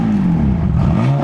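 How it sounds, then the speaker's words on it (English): BMW M4 engine revving steadily up close without exhaust burbles or pops, a continuous loud droning tone with slight pitch sweeps across a short stretch. "So again, revving, no burbles"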